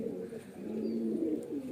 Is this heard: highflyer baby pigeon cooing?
yes